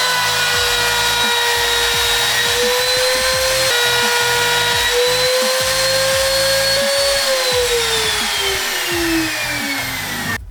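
A power tool routs out the middle of a wooden height-gauge jig made from scrap wood. It makes a loud, continuous whine that slowly drops in pitch toward the end, over a gritty cutting texture, close up and without talk.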